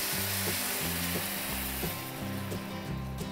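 Water poured over frying rice with onion and garlic in a paella pan, a steady loud sizzle and bubbling hiss filling the whole clip, with faint rhythmic knocking beneath.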